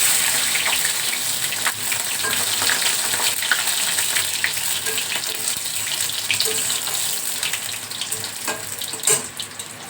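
Garlic cloves dropped into hot oil in a pan give a loud, steady, close hiss of frying that holds without a break, with a few faint crackles and no voices.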